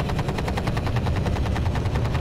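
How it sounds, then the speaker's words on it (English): An attack helicopter in the Battlefield 4 video game, a rapid rotor beat pulsing steadily under dense, loud battlefield rumble that may include automatic gunfire. "We just got an attack chopper at Delta."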